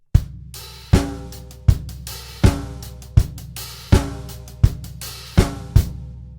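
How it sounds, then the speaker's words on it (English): Drum kit plays a four-on-the-floor disco groove, a loud bass drum thump landing on every beat in a steady, even pulse with cymbal and snare accents over the top, heard alone. "so the 4 on the floor over the 2 bar groove there at bar 49 and 50."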